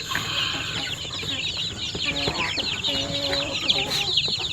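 Nearly month-old chicks packed into a crowded brooder under a small 5-watt lamp give a dense, continuous chorus of high cheeping, close and fairly loud, with a few lower clucks mixed in.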